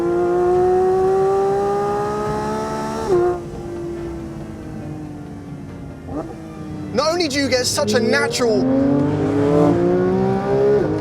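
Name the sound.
Porsche 911 GT3 engine accelerating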